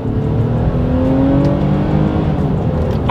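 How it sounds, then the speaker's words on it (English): A 2024 Nissan Pathfinder SUV in sport driving mode accelerates hard from a launch in first gear, its engine note climbing steadily and loud and close throughout, with no talking. "That is an incredible acceleration for the size of this SUV."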